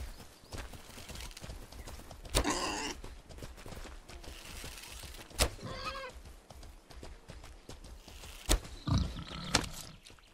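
A horse in the video game Mortal Online 2 clops along with steady hoofbeats while several short snorts and whinnies break through over a busy background of game ambience.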